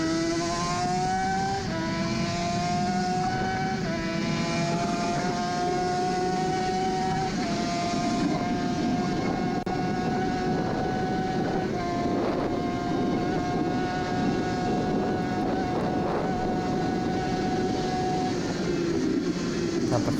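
Onboard sound of a Team Classic Suzuki RG500 racing motorcycle lapping a circuit: a loud, steady engine drone with a high, buzzing pitch that runs unbroken throughout, shifting only slightly as the rider changes gear.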